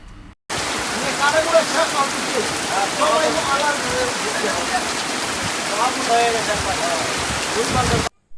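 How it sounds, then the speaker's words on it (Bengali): Heavy rain pouring down in a dense, loud, steady roar of drops hitting surfaces, close up, starting and stopping abruptly. "চলেন বৃষ্টির শব্দটা আপনাদেরকে শোনাই"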